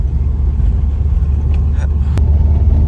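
A 2006 Subaru WRX cruises at around 3,000 RPM on a test drive after a clutch and motor mount install. It gives a steady, close engine and road drone heard from inside the car.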